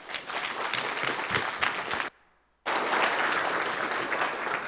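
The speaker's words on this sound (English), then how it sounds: "give him a big round of applause to welcome him" A conference crowd at an Elixir programming event claps loudly to welcome a speaker, a thick, even burst of applause that cuts out abruptly for a moment, then resumes at full strength.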